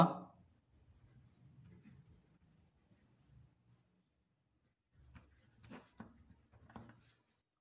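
A pen scratches on paper while solving a class 8 maths problem, a faint, close scribbling at first, then a pause, then sharper clustered strokes near the end.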